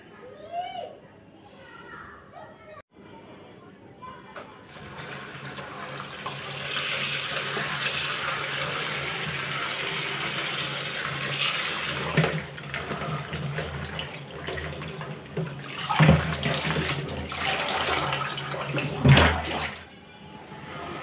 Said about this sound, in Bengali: এদিক দিয়ে কুমড়াটা ধুয়ে নেই